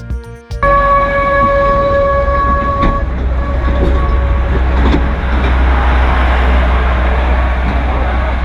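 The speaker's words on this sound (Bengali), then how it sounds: "আপনারা পার্কের ভিতর টয় ট্রেনও চড়তে পারেন।" A toy train running through Eco Park in Kolkata sounds a loud horn with sustained tonal blasts near the start. A continuous close rumble of the running train follows and lasts to the end.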